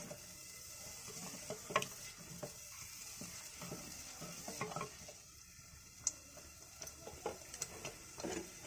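Masala frying in oil in a pan for a village-style fish curry, with a soft steady sizzle and scattered stirring scrapes and light clicks of a spoon, no talking.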